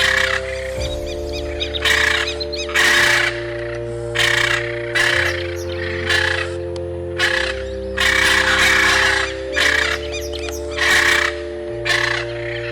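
Macaws in the Amazon give harsh, shrill screeches in repeated bursts, about a dozen loud calls spaced roughly a second apart over a sustained low musical drone.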